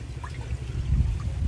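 Water pours steadily from a glass into a pan while making a sweet kozhukkatta dumpling, a short soft continuous trickle and splash close by.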